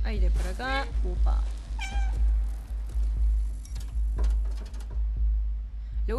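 A cat in the video game Stray meows several times in quick succession, clear and close, over a steady low game rumble and soft footsteps.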